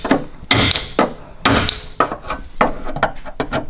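A hammer strikes a mangled, wrecked car body panel in a series of loud, sharp metallic blows, about ten irregularly spaced hits, each ringing briefly before the next.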